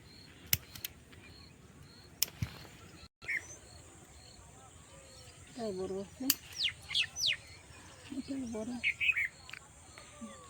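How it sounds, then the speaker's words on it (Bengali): Faint bird chirps and short calls come in scattered bursts over quiet outdoor background in a vegetable garden, with a few sharp clicks early on. "পাখিগুলো ডাকছে"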